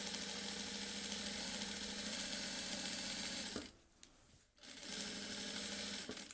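A sewing machine runs steadily, stitching pieces of a messenger-style bag, its motor whirring continuously before a brief pause around the middle and then resuming at the same even pace.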